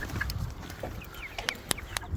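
Broiler chickens cluck softly and sporadically near a farm coop door, with scattered short clucks and scratching under low outdoor background noise.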